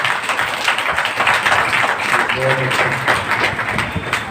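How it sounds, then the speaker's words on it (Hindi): An indoor audience at a Brahma Kumaris spiritual gathering claps together, a dense, steady wash of applause that holds at an even loudness for several seconds. "तो एक बार ताली बजा करके बताएंगे"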